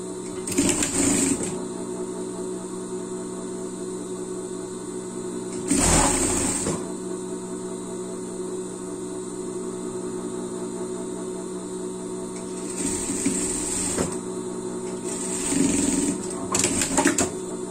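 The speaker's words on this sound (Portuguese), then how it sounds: "passamos a overlock aqui, vamos fechar o outro lado aqui" Overlock sewing machine stitching ribbed knit fabric seams for a costume, running in several bursts of steady whirring with a constant motor hum and quieter pauses between runs.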